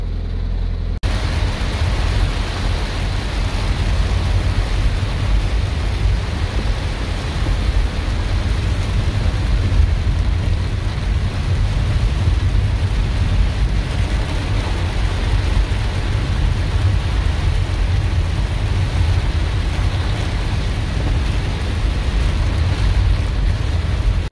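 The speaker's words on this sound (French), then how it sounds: "c'est le déluge" A heavy downpour of rain keeps up a dense, loud, unbroken roar for the whole stretch, with no voices.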